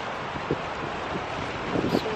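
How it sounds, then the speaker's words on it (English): Steady outdoor wind at a park buffeting the microphone, a broad rushing noise with a few gusts growing stronger toward the end, with faint voices underneath. "It is really windy"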